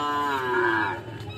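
A seven-month-old calf moos at a rural cattle market, one long drawn-out call that rises and holds, loud and close, with no one talking over it.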